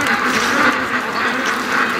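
Domestic ducks quack loudly and close by in a cold winter swamp, a busy overlapping run of nasal calls with no pause.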